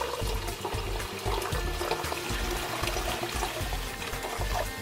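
Coca-Cola poured out of a 16.9 oz bottle, a continuous fizzy, gurgling stream of liquid splashing into a bowl, steady and close with no talk.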